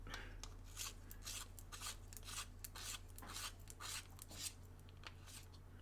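A colored pencil is sharpened by hand, giving quiet, rhythmic scraping rasps in quick repeated strokes over a low steady hum, close and faint.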